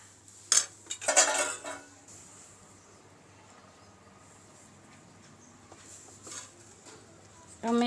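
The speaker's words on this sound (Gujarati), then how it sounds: "તો તેમાં આપણે થોડા કાપેલા ધાણા નાખી દઈશું અને ડીશમાં આપણે સર્વ કરીશું" Dal potli topped with chopped coriander is served onto a plate, making a couple of sharp metallic clinks and scrapes near the start before a quiet, low hum.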